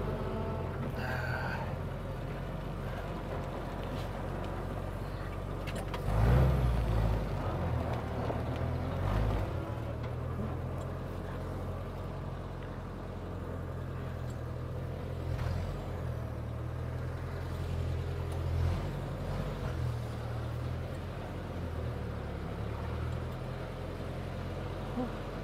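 A restored military Jeep M38 engine runs steadily with a low, continuous idle rumble throughout and a brief louder thump partway through, with faint voices in the background.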